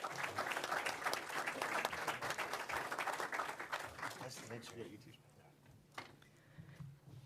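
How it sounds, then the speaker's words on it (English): Audience applause at a Democratic town committee candidates forum, dense clapping for about five seconds that then fades out, leaving a quieter room with a few faint sounds. "Let's give them a round of applause."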